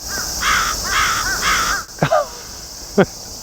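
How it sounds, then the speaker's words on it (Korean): Crows caw outdoors. A run of repeated harsh calls is followed by two separate louder caws, all over a steady high background hiss. "까마귀가"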